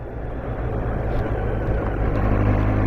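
A BMW K1300R motorcycle cruising in sixth gear, a steady low engine drone mixed with heavy wind rush, building slightly in loudness, with no speech.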